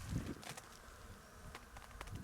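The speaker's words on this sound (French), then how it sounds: "Ici il y a des abeilles. Voilà, qui butinent les crucifères." Soft buzzing of bees foraging on crucifer flowers near vineyards in December drifts in and out, faint and close, with light rustling.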